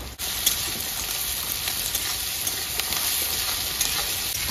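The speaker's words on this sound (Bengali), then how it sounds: "লবণটা দিলাম যাতে পেঁয়াজ তাড়াতাড়ি ভেজে যাবে।" Onions fry with salt in a pan, giving a loud, steady close-up sizzle with occasional stirring scrapes throughout.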